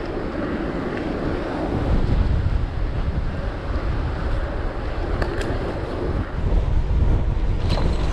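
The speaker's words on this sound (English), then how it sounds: "Into the wind as well. Oh, that was so windy." Strong wind roars across the microphone on a bicycle ride by the stormy sea at sunrise, a loud steady buffeting that swells in gusts with no voices.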